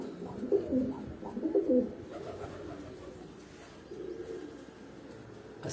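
Pigeons coo from a rooftop loft in a couple of low, throaty bursts near the start, then fade to a soft, steady murmur over faint background noise.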